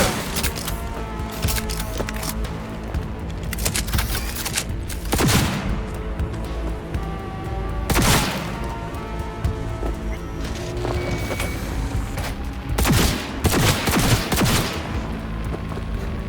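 Gunfire in the video game Cyberpunk 2077: repeated bursts of automatic fire and sharp single shots crack out in clusters, with loud volleys near 5, 8 and 13–14 seconds over a constant background of game noise.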